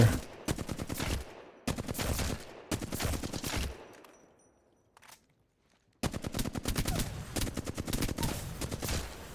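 Rapid automatic gunfire in Apex Legends during recoil practice, sounding as several long sustained bursts of fast repeated shots, broken by a short quiet gap before a final extended burst.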